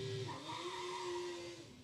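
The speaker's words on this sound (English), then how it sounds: "You can hear the rubber burning, scrubbing on the surface." A Formula Student race car accelerates hard, its tires scrubbing and squealing on the track surface in a sustained, wavering high-pitched tone over a low engine drone, moderately loud.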